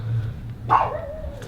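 A single sharp, high bark from a chihuahua, close and loud, followed by a brief whine over a quiet indoor room hum.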